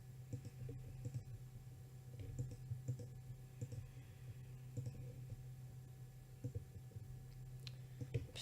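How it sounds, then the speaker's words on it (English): Computer mouse buttons clicking repeatedly in short irregular bursts, quiet and close, over a steady low hum while a Banished town-building game is played on a new mouse. "Sorry that I'm kind of clicking around and stuff. I'm getting used to a new mouse."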